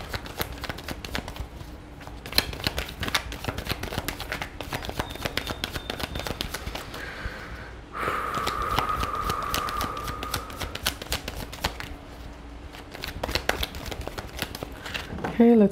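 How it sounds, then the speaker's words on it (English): Tarot cards are shuffled by hand in close, rapid bursts of papery riffling and flicking, with a short pause before a second, denser round of shuffling. "Okay, let's get two shuffles."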